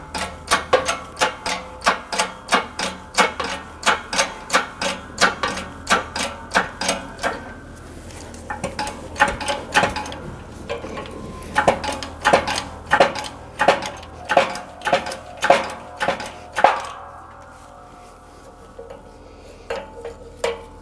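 A press slowly forces a rear wheel bearing onto the hub of a 1999-2004 Jeep Grand Cherokee, producing a long run of steady, evenly spaced metallic clicks up close that pause briefly midway and then resume.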